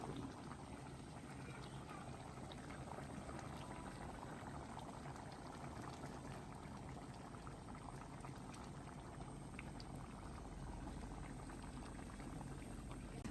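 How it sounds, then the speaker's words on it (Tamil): Milk poured into a simmering fish curry gives a faint, continuous bubbling and liquid rush, steady throughout with no talk. "அப்போ நாங்கள் இதுக்குள்ள பாலை விட போகிறோம்"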